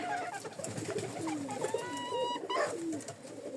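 Pigeons coo repeatedly in a backyard flock of tame hens and roosters, with soft chirps and rustling throughout and a steady, fairly close level.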